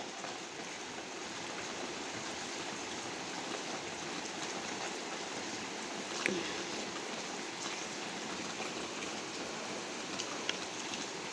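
Steady rain falls with an even, hissing patter throughout, constant and fairly soft, with a couple of faint knocks partway through.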